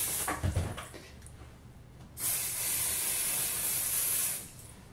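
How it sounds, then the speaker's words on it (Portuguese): A can of Charme hair spray is aimed at freshly curled hair, and after some handling noises one steady hiss sounds close by for about two seconds before cutting off. "Agora só vou pegar um pouquinho do spray da Charme."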